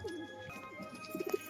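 A pigeon coos softly in short, throaty bursts near the end, faint and close, with thin background tones and light rustling.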